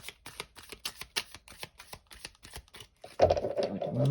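A rapid series of crisp tarot card riffles and flicks, about a dozen quick snaps, ending in a louder rustling shuffle as the deck comes together.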